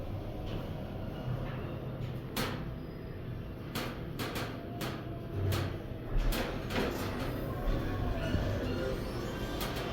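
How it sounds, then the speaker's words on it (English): A Schindler 330A hydraulic elevator at a restaurant in Las Vegas runs with its door operating roughly, giving a steady rumbling hum broken by a series of sharp clunks and knocks from the door mechanism, heard close from inside the cab. "that was a rough door"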